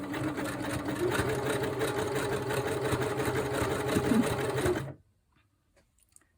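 A sewing machine runs steadily while stitching a small zigzag stitch on a DIY prayer journal, a continuous close mechanical whirr and rapid needle chatter for about five seconds before stopping abruptly into near silence.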